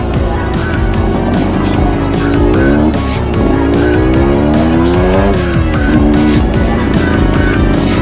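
Two 125 cc motorcycles, a Mitsukoshi Eagle 125 and a Rusi Venus 125, race close by, engines loud and continuous, their pitch rising and falling as riders rev, shift and overtake.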